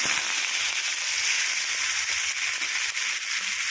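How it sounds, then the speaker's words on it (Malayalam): Mustard seeds, dried red chillies and curry leaves crackle in hot oil for a Kerala jackfruit erissery. The sizzle is steady and close, with no talk. "എണ്ണ ഒന്ന് ചൂടായി വരുമ്പോൾ അതിലേക്ക് ഒരു 1/2 ടീസ്പൂൺ കടുക് ഇട്ട് പൊട്ടിക്കാം"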